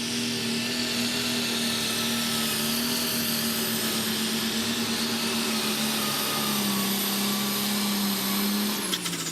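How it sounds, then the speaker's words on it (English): An old Fordson Major tractor roars under heavy load at a tractor pull, a steady loud drone with a strong low hum that sags slightly in pitch toward the end, with no voices over it. "the next Limited Pro tractor. And that's the Mustang Sally. Mike Stainton at the wheel, Old Fordson Major"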